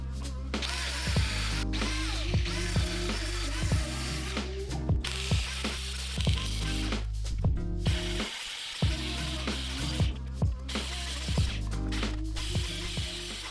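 A power grinder works down welds on a thin steel racing bumper, a continuous harsh close whine broken by repeated short pulses and brief pauses, with no talking.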